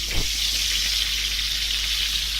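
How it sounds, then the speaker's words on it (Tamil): Marinated chicken pieces frying in hot oil, a steady, bright, close sizzle with a brief bubbling burst near the start, no voices. "இதை எடுத்து எண்ணெயில் ஒன்று ஒன்றா போட்டு எடுக்கணும்."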